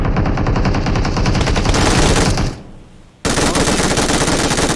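Rapid automatic gunfire in the video game PUBG Mobile, loud close bursts of fast repeating shots, a brief pause, then another sustained burst, with no talk.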